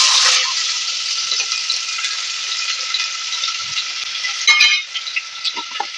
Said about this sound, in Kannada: ಇವಾಗ ನಾನಿಲ್ಲಿ ಈರುಳ್ಳಿನ ಹಾಕೋತಾ ಇದ್ದೀನಿ